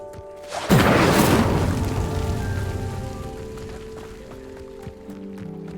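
An Incendio fire spell bursts into flame while lighting a pyre in Hogwarts Legacy, a sudden loud whooshing roar that crackles on and slowly fades over several seconds beneath steady game ambience.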